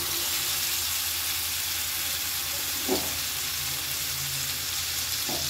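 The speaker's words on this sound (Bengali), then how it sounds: "তেল গরম হয়ে গেছে। এবারে তেলের মধ্যে আমি এটা দিয়ে দেব।" Spices drop into hot white oil and ghee in a pan, giving a steady, close, continuous sizzling hiss with a faint stir or two partway through.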